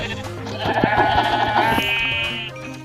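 Sheep in the Minecraft video game bleat several times in quick succession, loud and close, with their synthetic wavering cries standing out over faint background game sound.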